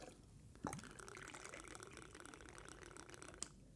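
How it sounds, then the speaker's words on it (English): Liquid poured slowly at an angle into an Exacto measuring pourer, a quiet steady trickle lasting a few seconds with small clinks at the start and end. No voices. "you just pour it very slowly, kind of 45 degree angle."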